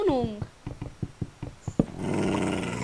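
A dog in the video game Minecraft whines briefly, then gives a rapid run of about eight short barks and growls, close and fairly loud, before a steady wash of game noise takes over.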